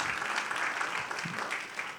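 A church congregation applauding, a steady patter of many hands clapping together at a modest, fairly distant level with no voices on top.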